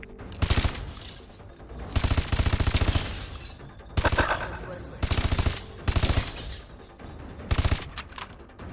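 Rapid automatic gunfire bursts at a target-training range in the video game Call of Duty: Advanced Warfare, loud and close, coming in repeated rattling volleys separated by brief pauses, with some speech mixed in.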